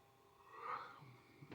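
A person's yawn, a single drawn-out breathy exhale that swells and fades over about a second, faint and close, with no talk.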